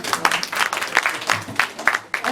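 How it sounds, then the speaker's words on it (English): Small group at a camp gathering claps briefly, a loose, uneven patter of hands close by that swells and fades in short bursts. "Round of applause."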